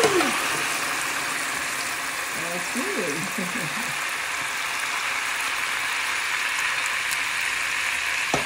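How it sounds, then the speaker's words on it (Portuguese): Steady crackling sizzle of chicken frying in a pan, continuous and close, with a brief faint voice early on. "O restinho do frango para fritar."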